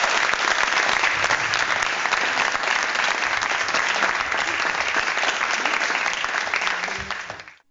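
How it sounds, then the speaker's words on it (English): Applause sound effect dropped into a podcast, a dense, even burst of clapping from a crowd that runs steadily and then cuts off sharply at the end. "I'll throw in some applause."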